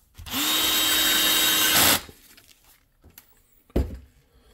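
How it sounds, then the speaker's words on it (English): A power drill whirs loudly for about a second and a half driving a screw into a Dell PowerEdge R620 server, then stops, followed by a couple of faint clicks and a short clunk. "And you just take your drill"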